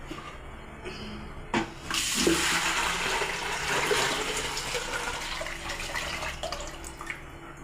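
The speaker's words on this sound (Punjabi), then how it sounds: "ਸਾਰਾ ਪਾਣੀ ਆਪਾਂ ਬਾਲਟੀ ਦੇ ਵਿੱਚ ਕੱਢ ਦਾਂਗੇ" Water gushes steadily out of a new clay pot into a bucket, a close, continuous pouring splash that begins with a few knocks and tapers slightly toward the end.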